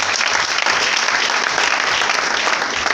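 A church congregation claps loudly and continuously, dense close applause filling the whole short moment.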